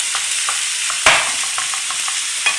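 Minced lamb sizzling in a frying pan with onions, stirred with a utensil that scrapes and taps the pan at intervals over a steady frying hiss, with one louder knock midway.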